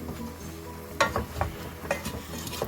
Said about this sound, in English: Now I'll just stir it all together.